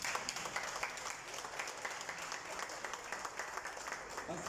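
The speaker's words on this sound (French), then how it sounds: "Applaudis." Faint, fairly distant applause from a crowd at an inauguration of a children's centre in Mauritius, a steady patter of many hands clapping with small rhythmic swells, with no talking over it.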